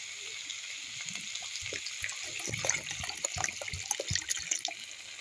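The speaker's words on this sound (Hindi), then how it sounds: "मैं 1 कटोरी के लगभग इसमें पानी डाल दी हूँ।" Water is poured into a pot of cooking saag, about one bowlful, giving a trickling, splashing liquid sound with soft drips and clinks. It is close but fairly quiet, and no one talks over it.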